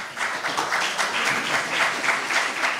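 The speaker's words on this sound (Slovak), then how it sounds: "potlesk pre pána vpredu" An audience at a public science night talk on newly discovered Maya pyramids in Guatemala claps steadily, with dense, even applause filling the room from start to finish.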